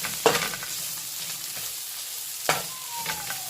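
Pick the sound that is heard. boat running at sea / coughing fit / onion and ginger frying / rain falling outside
onion and ginger frying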